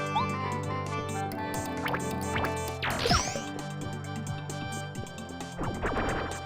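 Squirt water attack from the Paper Mario video game, a busy burst of cartoon splashing, dripping and sloshing effects over steady game music, with a sharp swooping splash near the middle and more spraying toward the end.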